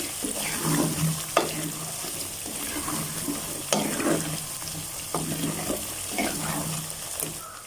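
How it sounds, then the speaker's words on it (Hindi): Cumin and turmeric fry and get stirred in a pan, giving a steady sizzle broken by repeated scraping sweeps of a spoon against the metal, close by with no talking. "और ये जीरा, ये थोड़ा सा, इसको मिक्स करेंगे अच्छे तरीके से।"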